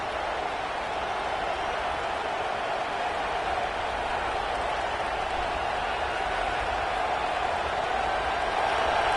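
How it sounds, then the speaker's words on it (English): A home-game college football stadium crowd roars in a steady, dense wash of noise that holds at full strength throughout, with no clear breaks or single voices standing out. "this crowd trying to help keep them there"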